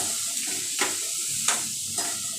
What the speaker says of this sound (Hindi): थोड़ी देर इसे चला लेंगे अच्छे से